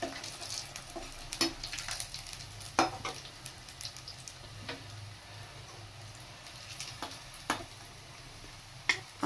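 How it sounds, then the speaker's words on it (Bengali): Potato egg cheese balls deep frying in oil, a continuous close sizzle and bubbling broken by sharp clicks and taps of a utensil against the pan. "আমার এগ চিজ বল ফ্রাই হয়ে গেছে"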